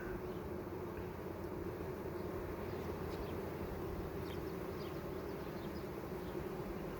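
Honeybees hum at a hive that is ready to swarm, a dense and steady drone close by that holds at an even level throughout.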